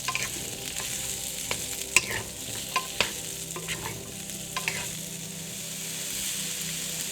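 Hard vegetables stir-fry in hot oil for a mixed vegetable curry, a steady close sizzle with scattered sharp scrapes and clinks of a spatula against the pan, no voices.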